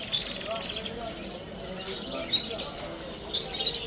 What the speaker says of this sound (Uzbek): Mana Akmalboy bugungi qushi.